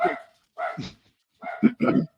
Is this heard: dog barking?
yes